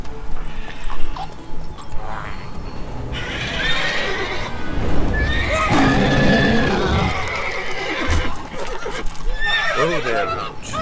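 Roach, the horse in the video game Witcher 3 Wild Hunt, neighs and whinnies loudly over clip-clopping hooves and a busy game soundscape, with several distinct whinnies spread across the stretch.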